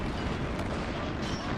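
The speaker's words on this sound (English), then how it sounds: "Alright, more tanks cooking off" Tanks cooking off and exploding near Stalingrad in the war game Men of War: Assault Squad, a rumbling, crackling roar of blasts and secondary bangs at steady volume.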